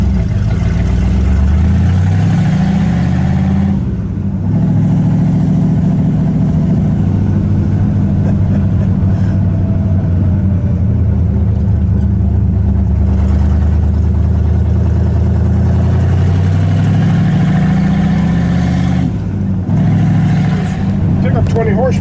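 A 1959 Chevrolet Bel Air with a 348 cubic-inch Tri-Power V8 and four-speed, header pipes removed, rumbles loud and close, its open exhaust rising and falling through several revs with some talk over it.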